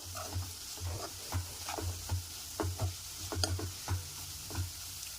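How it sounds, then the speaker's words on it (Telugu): A spoon stirs beetroot and carrot curry in a pan, a repeated rhythmic scraping and clacking over a soft background sizzle, fairly quiet, with no speech. "అంతా మంచిగా కలిసేలాగా కలిపేసుకుందాం మొత్తం అంతా కలిపేసుకొని"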